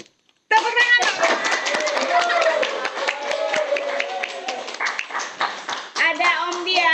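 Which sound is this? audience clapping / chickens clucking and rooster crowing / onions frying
audience clapping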